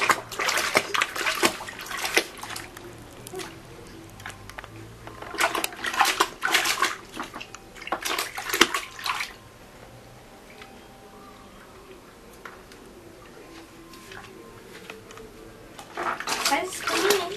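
A child splashes water in a wooden ofuro tub, with loud bursts of sloshing and splattering separated by a quieter stretch, while people talk nearby.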